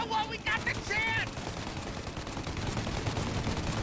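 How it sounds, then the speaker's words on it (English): Enemy turret machine gun in the Mafia remake firing, with fast, dense bursts at the start that settle into a steady, noisy rattle, and shouted voices over the gunfire. "Shoot out their gun when there's a break in the fire!"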